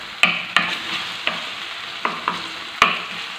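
A spoon stirs half a tomato into minced chicken frying in a pan, landing six sharp scraping clatters at an uneven pace over a soft sizzle, close up with no voices.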